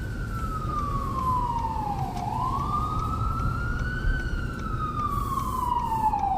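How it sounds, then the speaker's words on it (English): An ambulance siren wails along a snowy Manhattan street near Macy's and Madison Square Garden, one long, steady tone sliding down and back up over constant traffic rumble. "I hear the ambulance."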